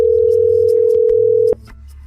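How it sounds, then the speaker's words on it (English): A steady telephone dial tone sounds from a phone emulator after numbers are dialed, loud and unbroken for about a second and a half before cutting off, leaving faint background hum. "You would type the numbers onto your phone emulator, to which a pre-recorded message by MrBeast would answer on the other end."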